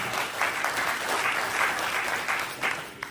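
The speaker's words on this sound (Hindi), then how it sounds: "इस जज्बे के लिए एक जोरदार ताली होनी चाहिए।" An audience at a motivational business seminar clapping, steady and moderately loud, sustained throughout without speech.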